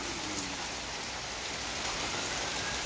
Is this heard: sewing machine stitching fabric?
no